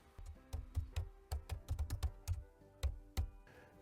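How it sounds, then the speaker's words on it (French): A password is typed on a computer keyboard, about a dozen quiet, close key clicks in an uneven rhythm, with no talking. "J'insère maintenant directement au clavier le mot de passe de ce compte."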